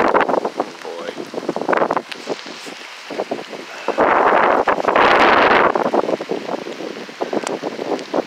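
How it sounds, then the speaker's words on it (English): Strong wind whipping outdoors ahead of a winter storm, a loud roaring rush buffeting the microphone in gusts, with a heavier blast in the middle and rustling flutter throughout. "this wind is whipping"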